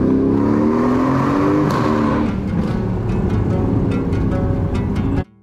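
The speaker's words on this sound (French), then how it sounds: "On entre dans le tunnel, Aston Martin." An Aston Martin engine roars loud and close, rising in pitch as the car accelerates into a tunnel, the sound echoing before cutting off abruptly.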